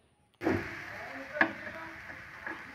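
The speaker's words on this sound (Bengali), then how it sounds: "এই দেখুন, আমি নেড়েই যাচ্ছি।" Fried vermicelli and grated coconut stirred steadily in a pan for sweet laddus, a continuous soft scraping hiss with a sharper clink of the spatula near the middle and another lighter tap toward the end.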